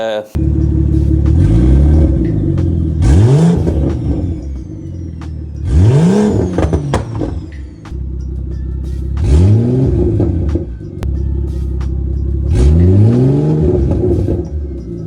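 BMW X3 M40i with a side skirt exit exhaust, loud close-up revving in four repeated bursts, each climbing and falling in pitch over a deep rumbling idle, with no talking.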